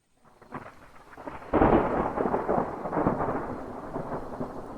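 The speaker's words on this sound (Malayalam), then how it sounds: "ഇപ്പം ഇങ്ങനെ ഒരു ഇടിയും മഴയും?" Rolling thunder crashes in and settles into a steady roar of heavy rain, loud and close, with no voices present.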